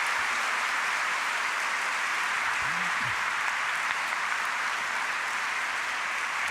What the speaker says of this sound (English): I just want to invite one more round of applause for all three of these panelists